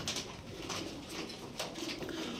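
Pigeons coo softly in a continuous, slightly noisy background, with faint flutters and no speech.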